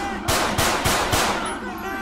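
Four rapid, evenly spaced gunshots ring out in the LSPDFR police mod video game, loud and close, over a steady background hum with faint ambient tones.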